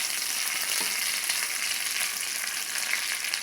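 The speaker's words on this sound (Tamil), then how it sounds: "கடுகு, உளுந்து தாளிச்சோம், கருவேப்பிலை," Mustard seeds, urad dal and curry leaves fry in hot oil, a loud continuous crackling sizzle that holds steady throughout with no talking.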